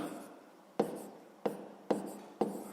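A pen scratches across paper in four short, evenly spaced strokes, each starting with a sharp scrape and trailing off, quiet and close with no talking.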